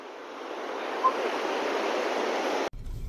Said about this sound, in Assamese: এইটো সাইডৰ পৰা নদীখন আহি আছে